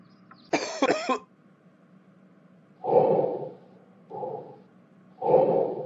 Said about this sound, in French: Quelqu'un tousse